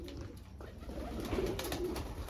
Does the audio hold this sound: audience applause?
no